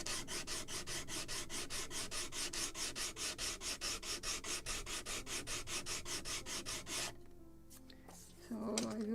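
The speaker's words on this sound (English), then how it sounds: "more sanding, and I should sand probably also this edge or this end" Steady rhythmic back-and-forth rubbing of sandpaper on the wooden planking of a model 1776 gunboat Philadelphia, dozens of quick even strokes up close, then stopping near the end as something is shifted on the bench.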